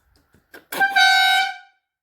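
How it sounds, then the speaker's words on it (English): A few faint clicks, then a loud, nearby air horn on a 1979 Suzuki GS750 motorcycle blares in a single brassy blast lasting about a second before cutting off. "It's got an air horn on it."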